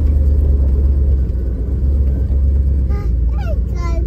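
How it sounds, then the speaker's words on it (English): Deep engine rumble of a Ward LaFrance fire engine replica (Emergency! Engine 51) driving, steady and loud up close, with a few brief voices breaking in near the end. "Yeah, you're driving a fire truck."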